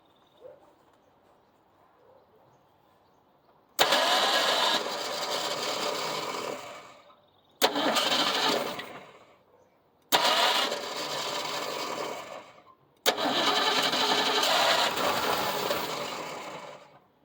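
A neglected 1975 Ford Granada's engine cranks in four separate bursts after a quiet start. Each attempt is a loud, rapid whirring churn lasting a few seconds, and the engine never catches.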